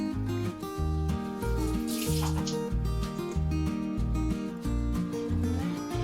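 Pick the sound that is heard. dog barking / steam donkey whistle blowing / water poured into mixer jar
water poured into mixer jar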